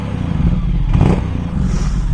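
A Ducati XDiavel S motorcycle engine is revved while stationary in neutral, one short loud blip swelling over a rumbling idle and then settling back.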